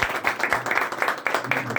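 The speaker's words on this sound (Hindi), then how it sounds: "तालियां तो बजा दीजिए एक बार।" A small group claps at a victory welcome ceremony for a winning election team, a few close, distinct rhythmic claps in uneven bursts with a murmur of voices beneath.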